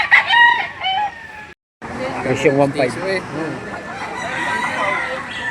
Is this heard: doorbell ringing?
no